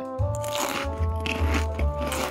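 Several crunchy bites of vegetables come in short, separate bursts, close and fairly loud, over steady humming tones.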